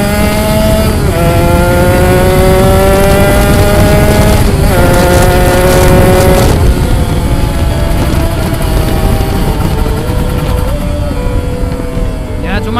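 Kawasaki Ninja RR two-stroke motorcycle fitted with an AMS exhaust and a reamed original carburetor revs hard and continuously, rising and falling in pitch as the throttle is blipped, loud and close throughout.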